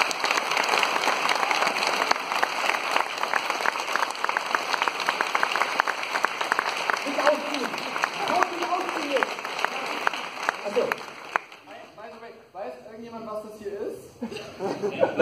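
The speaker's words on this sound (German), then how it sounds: "mal einen großen Applaus bitte" Convention crowd at Animagic 2018 in Mannheim's Rosengarten applauding loudly for about ten seconds, then the clapping fades out while a voice speaks over the thinning audience.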